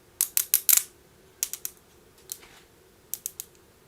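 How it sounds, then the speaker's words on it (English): A super glue gel control cap is twisted to puncture the tube, giving a close series of sharp plastic clicks in two quick clusters and a few later spaced clicks, with no talking. "To puncture, turn, cap until clicking sound stops."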